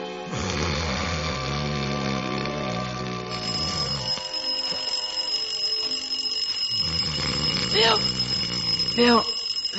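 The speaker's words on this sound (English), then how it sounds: "Turn off the alarm." An alarm clock rings in a 1949 radio comedy, a sustained mechanical ringing that cuts off abruptly, followed by a quieter passage and a couple of short rising tones.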